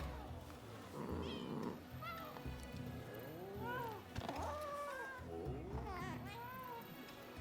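Several plaintive cat meows from the video game Rise of the Ronin rise and fall in steady succession over a low background hum, with no talking.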